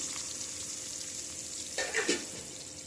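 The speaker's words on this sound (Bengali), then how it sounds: "এই তেলের ভিতরে আমি রান্না করবো। কাঁচামরিচ দিয়ে দিলাম, পেঁয়াজ দিয়ে দিলাম" Green chilies and onion frying in oil for a fish curry, a soft continuous sizzle with a brief louder crackle and stir near the end.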